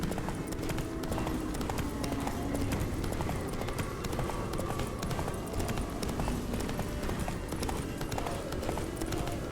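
Rapid, continuous hoofbeats of a galloping horse in The Witcher 3: Blood and Wine drum steadily throughout, close and loud, with a faint voice underneath.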